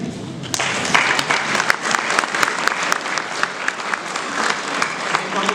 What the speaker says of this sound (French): Je les applaudir tous les deux.